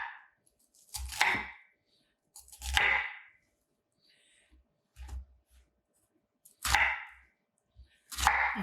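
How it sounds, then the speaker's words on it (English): Knife dicing a red onion on a cutting board for marinara sauce, a few scattered, crisp chopping strokes heard close and clear, separated by quiet pauses. "I'm going to dice up a red onion."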